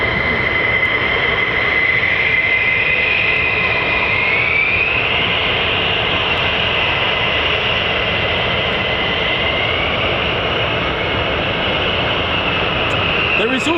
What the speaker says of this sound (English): I can hear F-35s, I can hear the nozzles of the